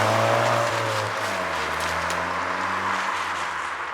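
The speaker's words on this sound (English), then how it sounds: "The noise out of this little car is fantastic. It's just a nice sort of burbling sound" Engine and exhaust of a 2014 Ford Fiesta ST MK6 with a Montune upgrade, a low steady burble held for several seconds with a slight pitch shift partway, fairly loud and close, with no talking.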